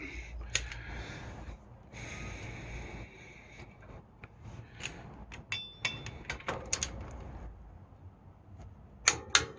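A wrench clicks in sharp, irregular bursts while wheel studs are tightened on a 1941–1951 Ford F1 rat rod truck, close and quiet, with a few louder clicks near the end.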